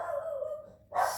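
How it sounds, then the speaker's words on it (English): A dog indoors gives a drawn-out whining bark that trails off, followed by a sharper short bark, both fairly faint and close. "Oh, that's my dog."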